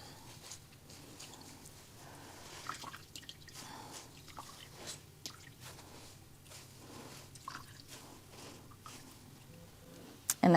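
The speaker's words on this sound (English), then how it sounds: "I am going to gently squeeze the extra water out of her." Water drips and trickles steadily from a wet stuffed bunny as it is squeezed after a bath, making soft, irregular patters close by.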